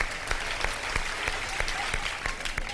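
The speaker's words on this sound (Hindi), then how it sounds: "बहुत सारी तालियां। तालियां बजा दें भाई।" A studio audience at a televised Ramadan iftar show gives dense, steady applause, many hands clapping at once in an even roar that carries on without a break.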